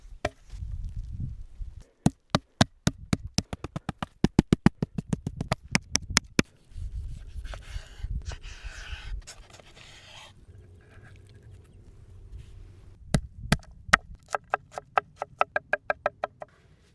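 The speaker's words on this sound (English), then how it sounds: "So the first thing is we're going to want to tenderize this." Repeated sharp thuds of abalone meat being pounded to tenderize it, in two long bursts of steady, close blows with a quieter stretch of scraping and handling between them.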